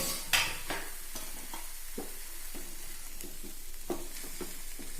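Drumsticks frying with curry leaves in a pan, a continuous soft sizzle with occasional spoon taps and stirring scrapes, close and fairly quiet.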